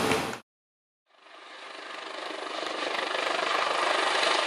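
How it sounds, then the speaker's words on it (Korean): A rescue helicopter flies over the rugged Jirisan mountain, its rotor and engine roar rising in from silence and growing steadily louder and fuller as it approaches, with no voices. "지리산 상공에서 헬기가 모습을 드러냅니다."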